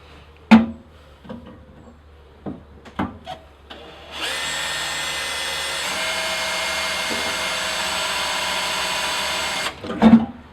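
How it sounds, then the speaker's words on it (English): A few taps and knocks, then a power drill with a 4mm bit whines steadily for several seconds drilling pilot holes for a Land Rover Defender cubby box, before stopping, followed by another knock. "I'm going to drill 2 pilot holes first with a smaller 4mm drill bit"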